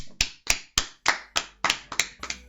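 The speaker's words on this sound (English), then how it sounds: "we applaud you" Podcast hosts clap by hand, about nine sharp, separate claps in a steady rhythm, close to the microphone in a quiet room with no talking.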